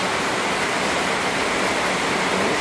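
Water splashes and drips steadily inside the leaking, poorly built patio of a rental house in the Philippines, as if raining indoors: a dense, even, close hiss that never lets up and has no talk over it.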